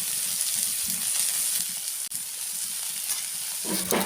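Data shak greens frying steadily in a hot pan, a continuous close sizzle with crackling that holds throughout, briefly dipping once and swelling slightly near the end as the greens are stirred.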